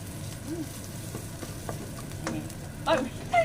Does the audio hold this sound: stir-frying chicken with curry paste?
yes